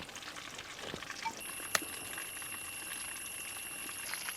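Malabar-style stuffed chicken fries in a pan, a soft, steady sizzle and bubbling hiss throughout, with a faint high whine, a few small pops and a brief sharp tap, fairly quiet and without talk.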